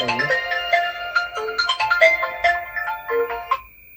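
A mobile phone plays a melodic ringtone for an incoming call, loud and near, a rapid sequence of bright electronic tones lasting about three and a half seconds before stopping.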